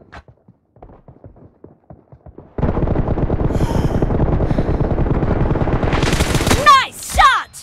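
Gunfire in a team deathmatch shooter game begins with a few sparse single shots, then bursts into loud continuous automatic fire lasting several seconds, ending with sharp ricochet-like effects and a voice calling out.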